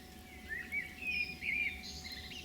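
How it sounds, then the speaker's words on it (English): Birds sing outdoors with a few faint, high chirping phrases that come and go over soft background ambience, heard alone with no talking. "Just sit here and listen to the bird's song."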